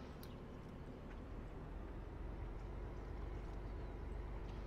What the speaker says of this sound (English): So we'll do that so you can hear it increase